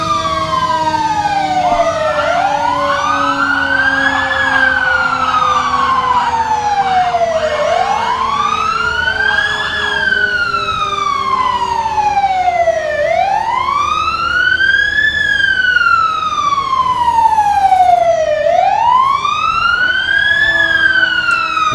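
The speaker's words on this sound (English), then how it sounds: "We got a few of the guys that are just laying on that siren" New Richland fire department trucks rolling through a Farm and City Days parade with sirens wailing, several overlapping rising-and-falling wails cycling steadily and loudly for the whole stretch.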